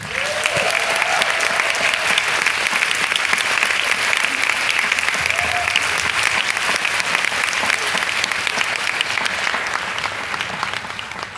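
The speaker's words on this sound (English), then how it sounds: "So a round of applause for the French horn, please." Sustained audience applause at an orchestral concert, honouring the French horn section: a steady, even wash of clapping that stays full and loud from start to finish, with no voices over it.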